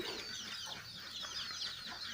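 Backyard village chickens clucking quietly in their pen, soft chattering calls repeating at a distance with no voices.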